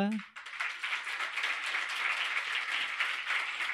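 A church congregation claps hands together in sustained, dense applause that swells and holds steady, with a brief voice at the very start before the clapping takes over.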